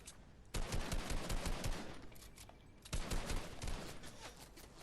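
Bursts of automatic gunfire in a Fortnite match, rapid crackling volleys from more than one direction, moderately distant, with two louder flurries separated by quieter stretches.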